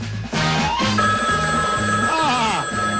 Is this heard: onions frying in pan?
no